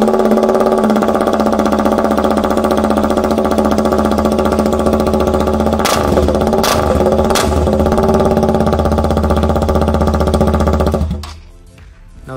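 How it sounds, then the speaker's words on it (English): A motorcycle with its stock exhaust and muffler removed revs loud and close. The rough engine roar holds steady for about eleven seconds with a few sharp blips, then cuts off. "Let's take a listen to the bike without a muffler,"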